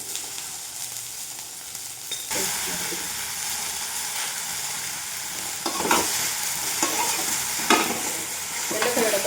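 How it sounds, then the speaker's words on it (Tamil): Chopped okra sizzles and fries in a little oil in a kadai, with steady loud frying hiss and repeated scraping stirs of a spatula throughout, no voices. "கொஞ்சமாக ஆயில் விட்டு வெண்டைக்காய் ஃபஸ்ட்டு ஃப்ரை பண்ணிக்கலாம்."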